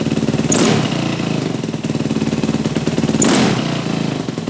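A four-stroke dirt bike engine with a hanging idle from a lean-running fuel screw missing its O-ring hums steadily and loudly, with two brief swells where the revs rise and fall, and no talking.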